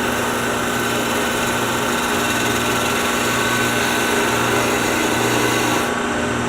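A wood lathe turns steadily while a tool cuts into the spinning wood, producing a loud, continuous whirring hum with a faint pulsing roughness, with no talking.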